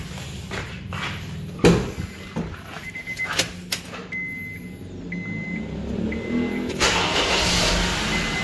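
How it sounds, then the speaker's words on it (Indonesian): A few electronic chimes sound in the cabin, then a Honda CR-V engine cranks and catches, settling into a steady running rumble near the microphone. "Sekarang kita coba start mesin."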